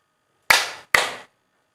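Two sharp hand claps about half a second apart, close and fairly loud, standing in for the number six in a classroom counting game, with silence around them.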